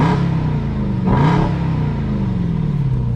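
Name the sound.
Jeep Grand Cherokee Trackhawk engine revving with aftermarket exhaust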